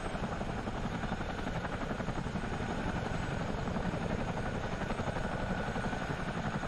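Steady rotor thrum of a CH47D Chinook helicopter in the Miltech Simulations flight simulator, a continuous dense rhythmic beating with engine whine, loud and unbroken throughout.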